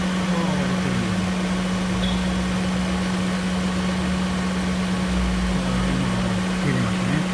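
Daihatsu Mira Gino L700 kei car engine running steadily with a constant near hum and a faint blip of revving, the car parked while its air conditioning is checked, with voices heard faintly.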